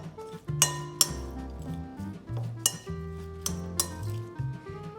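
Shrimp and pre-cooked kielbasa sausage tossed with seasoning in a bowl for the air fryer, heard as a string of bright clinks and knocks against the bowl, some sharper than others, with soft shifting between them.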